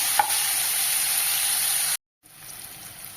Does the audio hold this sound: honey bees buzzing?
no